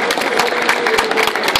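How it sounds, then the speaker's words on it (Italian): Dense applause from an audience at a manga book presentation honouring the author, close and loud, with clap transients packed throughout and no speech. "un applauso"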